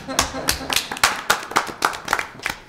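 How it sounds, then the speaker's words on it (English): Clapping at a city council meeting, a handful of sharp, distinct claps in an uneven rhythm from a small group nearby, with voices murmuring underneath. "And I'm going to clap."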